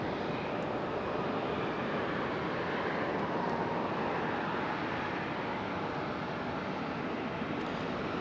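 A Delta airliner arriving at Raleigh-Durham airport gives off a broad, steady jet roar at moderate distance, holding constant throughout without breaks.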